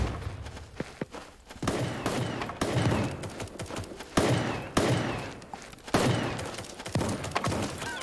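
Shotgun fire in Super Animal Royale, with several sharp, loud blasts at irregular intervals among other battle noise.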